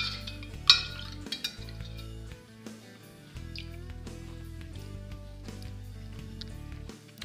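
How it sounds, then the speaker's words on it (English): A spoon clinks against a container while stirring white wine vinegar into homemade lacto-fermented hot sauce, a few sharp clinks then soft scraping, close and fairly quiet. "Let's mix that in and give it a small taste."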